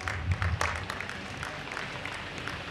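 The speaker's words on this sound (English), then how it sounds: "May we have a huge round of applause" Applause from an audience at a memorial meet, brief and moderately loud at first with a low thump, then thinning into lighter scattered clapping.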